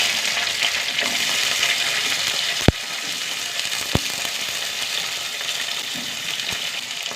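Curry leaves, mustard seeds and shallots fry in hot oil, making a loud, dense, continuous sizzle and crackle, with a few sharp metallic clicks from the pan partway through.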